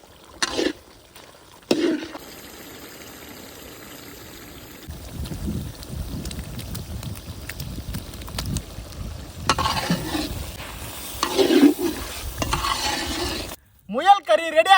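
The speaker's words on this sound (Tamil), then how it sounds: "12 வகையான மசாலா எல்லாத்தையும் போட்டு கிண்டிக்கலாம்" Rabbit curry with twelve kinds of masala powder being stirred in a village-style pot: a steady scraping, sizzling churn that runs nearly continuously, with a few sharper knocks and brief pauses.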